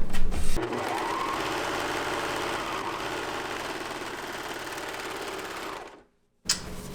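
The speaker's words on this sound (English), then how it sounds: "I'm going to do this on my serger" A serger stitches a sleeve underarm seam at a 5/8-inch allowance in one continuous, loud mechanical whir of about six seconds, then stops abruptly before a short clunk.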